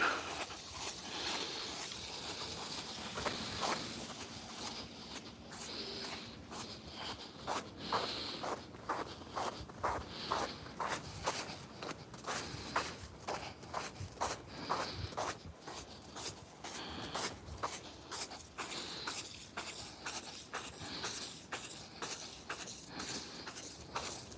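Footsteps crunch through snow in Alabama, a long series of soft, fairly even steps close by with no talking.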